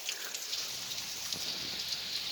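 Steady rain patters on a surface, a soft continuous hiss with scattered drops, fairly quiet and uninterrupted.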